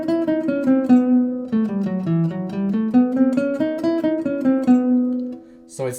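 Minor sixth diminished scale, played as a run of clear melodic notes stepping up and down at a steady pace, loud and close with no talking.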